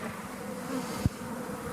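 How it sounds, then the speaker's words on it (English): Honey bees buzz around the empty spot where their hive was removed, a faint, steady hum that continues throughout, with one brief soft thump partway through. "these bees are gonna fly around until they realize that there's nothing here"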